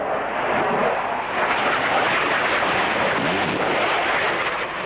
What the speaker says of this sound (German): Kanonen schießen.